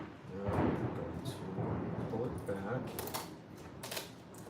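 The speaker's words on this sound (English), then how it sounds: "Listen to that thunder." Distant thunder rumbles low and long while crafting an Iron Man Mk3 shin piece indoors, mixed with light tapping and clicking of handwork nearby.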